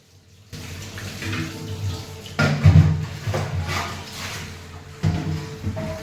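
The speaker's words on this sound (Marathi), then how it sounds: "पाणी भरायचं." Water runs steadily from a tap into drinking-water containers at home, a continuous close splashing flow that swells louder partway through with brief clunks of a vessel being handled.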